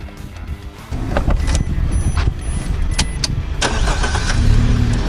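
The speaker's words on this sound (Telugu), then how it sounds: "ఇప్పుడు మీకు ఇంజన్ సౌండ్ ఎలా వస్తుందో ఒకసారి చూపెడతా" A Suzuki car engine cranks and catches, then settles into a steady idle with a low, even rumble, heard close and fairly loud.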